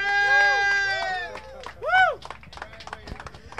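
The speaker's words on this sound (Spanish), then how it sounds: "Fuerte el aplauso." Studio audience applause for a singer and her band arriving on a late-night talk show, scattered clapping beneath whoops and voiced cheering, with talk starting near the end.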